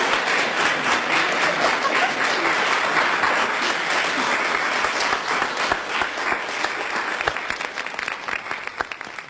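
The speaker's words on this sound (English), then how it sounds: "can we have a round of applause, please, for my lovely young pianist" Audience applause for a young pianist, a full, steady round of clapping from a room of people that gradually thins out toward the end.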